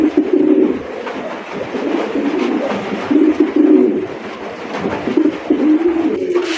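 Red pigeons, fancy Raj Golla breeds held for sale, cooing in repeated rolling bursts close to the listener, loud and overlapping, with soft rustling between calls and no clear talk.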